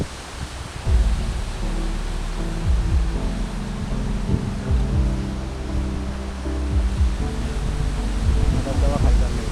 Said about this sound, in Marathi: धबधबा खाली चाललाय.